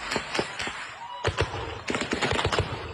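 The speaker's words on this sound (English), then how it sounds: "every gunshot you're hearing is hitting a person" Gunfire during a massacre at a house after a church service in Nigeria: a rapid run of sharp, loud cracks in uneven bursts, with a short lull before the shots resume in quick clusters.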